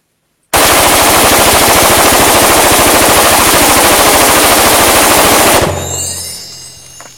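An FN P90 fires 5.7mm rounds in one loud, sustained full-auto burst into a stack of citrus candy, rapid shots blurring together for about five seconds before cutting off and echoing away.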